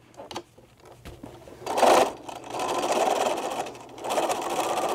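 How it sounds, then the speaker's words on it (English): Sewing machine stitching a Japanese knot bag, running in several sustained bursts of steady mechanical whirring with short pauses between, close and fairly loud. "that's where I'm gonna start stitching."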